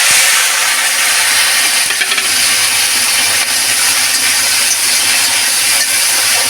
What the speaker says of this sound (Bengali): ব্যাস এবার চিংড়ি মাছটা ভেজে নেবো